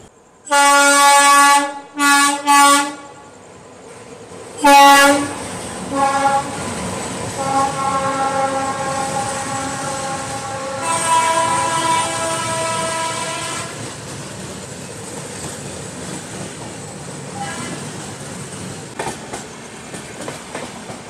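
Rajdhani Express pulling out of Guwahati railway station: several loud horn blasts up front, then long sustained horn tones over the rolling rumble and clatter of the train starting off, with no talk.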